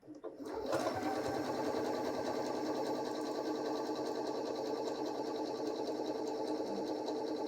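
A Janome 6700P sewing machine running a dense satin stitch at very short stitch length, starting after a brief pause and then whirring in a steady, even rhythm close by, with no talking.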